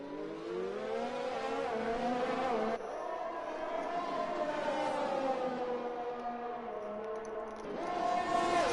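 Formula 1 race cars, an AlphaTauri running close behind a McLaren, with a continuous high engine whine rising and falling in pitch, loud and sustained, with a brief change in tone partway through.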